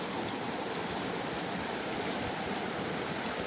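Steady rushing of Jenny Creek water flowing over rocks, a continuous broadband babble with no voices, close and fairly loud throughout.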